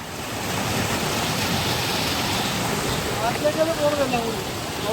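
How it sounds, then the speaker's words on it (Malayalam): A river waterfall at a village gives a loud, constant roar and rush of falling water close by. Toward the end it is mixed with a few brief warbling calls. "ആറ്റിലെ വെള്ളച്ചാട്ടം"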